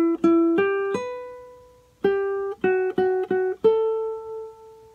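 Charango plays the opening melodic fragment of a song, a single line of about nine bright plucked notes in short groups, with repeated notes and a final note left ringing, close and clear.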